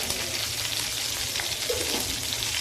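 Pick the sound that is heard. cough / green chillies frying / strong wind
green chillies frying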